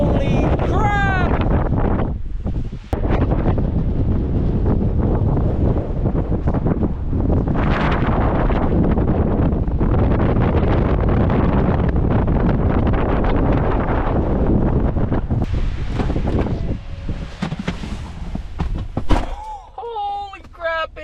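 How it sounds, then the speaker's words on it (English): Strong mountain-top wind of roughly 80–90 km/h buffets the microphone, producing loud, continuous low rumbling and gusting roar for nearly the whole stretch before easing at the end. "The wind is ridiculous. It is like 80-90 kilometer an hour winds up here right now."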